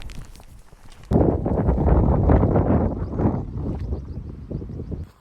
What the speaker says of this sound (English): it got really, really fucking windy up there